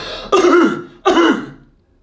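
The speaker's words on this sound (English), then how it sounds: "a big deep breath and a massive cough, as if you're going to cough up a lung" Two loud, deep, forceful coughs close to the listener, each with a rough throaty rasp, followed by silence.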